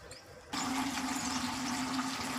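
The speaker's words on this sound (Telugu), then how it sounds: "కంఫర్ట్ వాటర్లో జాడిస్తున్నానండి" Laundry being rinsed in water with Comfort fabric softener, heard as a steady close wash of running, splashing water with a faint low hum that starts abruptly and continues evenly.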